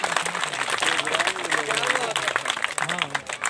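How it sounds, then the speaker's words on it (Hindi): Loud applause rolls through an audience at an Islamic quiz and naat speech contest, a dense patter of clapping mixed with raised voices from the crowd. "जोरदार तालियां।"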